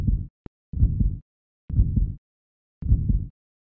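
A player's heartbeat thumps in the horror video game Hellnight, three slow, heavy, close double-beats spaced about a second apart, with nothing else heard.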